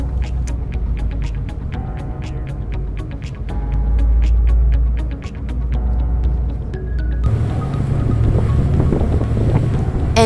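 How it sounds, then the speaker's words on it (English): A passenger boat pulling away from San Francisco toward Sausalito, with a steady low engine rumble, wind buffeting the microphone and water rush that grows louder and rougher partway through. "After we boarded, the boat started to leave San Francisco gradually."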